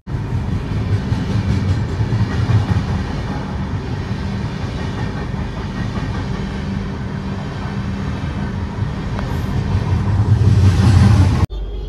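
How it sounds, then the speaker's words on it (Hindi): A passenger train runs at about 110 km/h a few kilometres before Banaswadi railway station, giving a loud, steady rumble and rattle of wheels on track that continues throughout and swells near the end. "110 हाईएस्ट स्पीड इसने अभी अचीव किया है"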